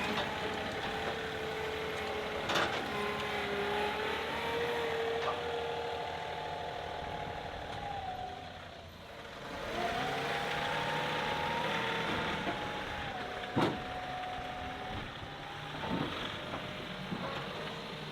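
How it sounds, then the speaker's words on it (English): A skid loader engine runs steadily nearby at a working site with a bridge project, its mid-pitched drone holding through the clip with a brief dip partway and a few sharp knocks or clanks on top. "I'm gonna see if I can finish this job with the skid loader"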